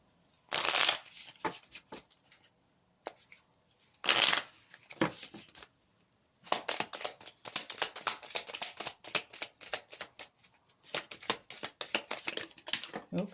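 An oracle card deck is shuffled by hand in several bursts, short riffling flurries with pauses between, then a long stretch of rapid card flicks and slides, close and fairly quiet with no talking.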